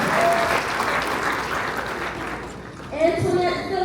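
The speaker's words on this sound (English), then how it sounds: "Give her a round of applause." Audience applause at a White Mountain Apache tribal rodeo queen pageant, a steady wash of clapping from a large crowd that swells again near the end, with a voice over the sound system in the last second.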